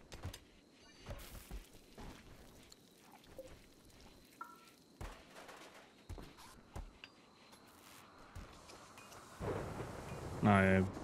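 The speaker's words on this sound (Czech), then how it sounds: "A je bouřka." Thunderstorm in the video game RimWorld, with steady rain hiss, scattered thunder cracks and a louder rumbling surge near the end, under light game sounds.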